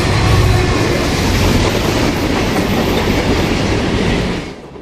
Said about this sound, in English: A CSX steel slab train from AK Steel in Middletown, Ohio, heads north on the CSX Toledo subdivision at Sidney, Ohio.